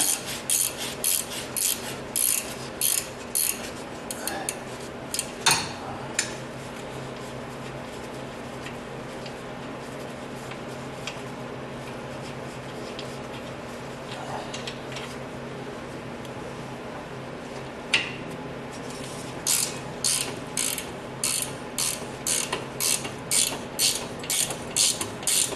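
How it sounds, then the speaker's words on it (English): Fine-tooth ratcheting wrench clicking on the rear brakes of a 2015 Jeep Wrangler, with close, crisp bursts of rapid ratchet ticks separated by quieter pauses and softer mechanical handling noises. "The ratcheting wrench fits in there much better."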